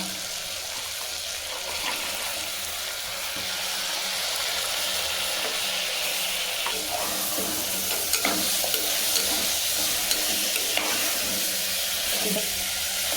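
Ginger garlic paste and cowpeas fry in a pan with a steady broadband sizzle, while a spoon scrapes and stirs in occasional clinks and swishes. The sizzling grows slightly after the opening seconds, and nobody speaks.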